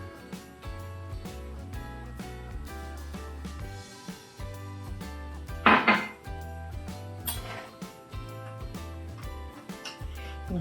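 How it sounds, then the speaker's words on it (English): A spoon stirring instant hot cocoa with marshmallows in boiling water, with repeated clinks and scrapes against the mug in an irregular rhythm and one sharper knock midway, close and fairly quiet. "And give it a good mix."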